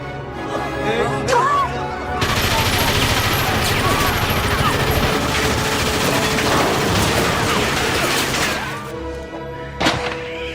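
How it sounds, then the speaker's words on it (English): Tommy gun fire in Fallout: New Vegas. A loud, sustained burst of rapid automatic shots runs for most of the span, and mechanical clicks and scattered effects come before and after it. "we had something they did not. A Tommy gun!"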